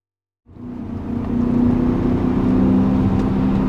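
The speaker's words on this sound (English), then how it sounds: "I could fall asleep to this engine note." A BMW M5 sport sedan engine starts after a moment of silence and settles into a loud, smooth, close-up rumble that swells slightly and holds a steady tone through the rest, alone without speech.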